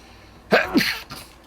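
A single sharp sneeze, close by, with a quick two-part burst and a faint breathy trail afterward.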